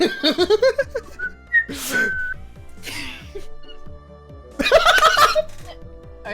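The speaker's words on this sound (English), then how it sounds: "Satoko was whistling while rather deliberately trying to avoid eye contact" A character whistling in the Higurashi visual novel: short bright whistled notes mixed with playful vocal giggles and chuckling sounds, close and dry with scattered bursts.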